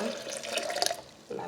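Tap water runs into a cooking pot while preparing Haitian soup joumou, a steady close splashing stream that briefly breaks off and then resumes.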